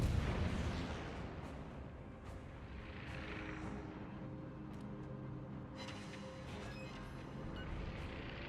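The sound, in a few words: naval artillery fire in World of Warships video game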